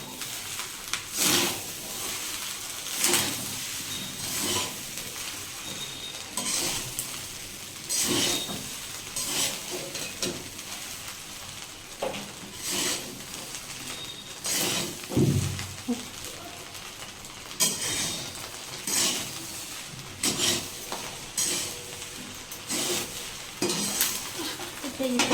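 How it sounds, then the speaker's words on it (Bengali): Beaten egg is stirred into crispy rice frying in a pan for egg and prawn fried rice, giving a soft sizzle broken by repeated scraping and clinking spatula strokes. "এর মধ্যে আগে থেকে ফেটিয়ে রাখা ডিমটা দিয়ে দেবো। দিয়ে ভালো করে নাড়তে থাকতে হবে।"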